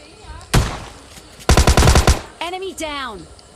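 Automatic gunfire in the video game PUBG Lite comes as two short, loud bursts of rapid shots, followed by a brief electronic chirping game sound.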